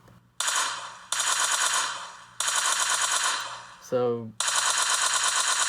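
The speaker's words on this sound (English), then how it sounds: "We're gonna go ahead and just do a few shots to do a sound test at full volume." Rapid automatic gunfire in a shooter video game, set inside a house, comes in several loud, dense bursts at full volume, with brief gaps between them. A short voiced word interrupts once between bursts.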